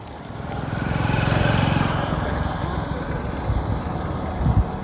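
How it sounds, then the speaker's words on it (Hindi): A motorcycle engine drone swells as it passes close in front on a road near a city gate, heard over steady wind rush, loudest early then fading with some rumbling thumps at the end. "बाइक वाला इतने सामने से जा रहा है यार."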